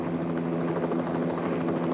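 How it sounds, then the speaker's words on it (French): A helicopter flies over the 1989 Sainte Victoire forest fire in the Bouches-du-Rhône, its rotor and engine making a steady, even drone at moderate distance with no pauses. "vient lui-même à bord de son hélicoptère observer l'étendue du feu"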